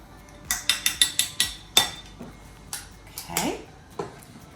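A whisk clinking rapidly against a bowl, working vanilla into melted butter, a quick run of sharp metallic taps followed by a few slower, scattered clinks and scrapes.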